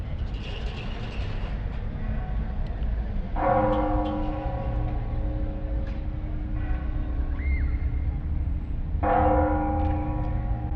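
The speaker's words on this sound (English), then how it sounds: "The church bells go off quite a lot" Church bells in Morelia, Mexico ring out at a distance in two clear bursts of overlapping tones, with a steady low hum of traffic or engines underneath.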